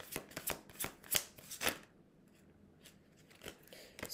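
Tarot cards being shuffled and drawn: a quick run of crisp riffling snaps comes up close and fairly loud, then stops. A couple of faint card flicks follow in near silence.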